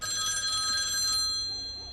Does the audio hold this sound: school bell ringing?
yes